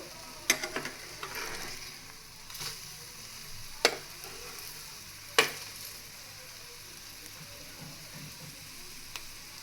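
Potato snack frying in a pan until crispy, a steady soft sizzle of oil running throughout, broken by a few sharp clinks and scrapes as the pieces are stirred and turned.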